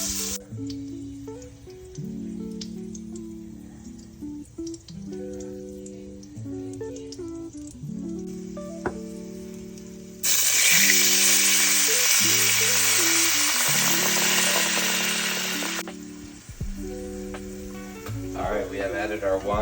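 Wine hitting a hot pan in a home kitchen for a pork chop dish, bursting into a loud, broad sizzle midway that holds for several seconds, with background music playing throughout.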